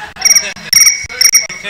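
Crickets chirp in three loud, close bursts of rapid, shrill trilling with short gaps between them, used as a comic sound effect for awkward silence.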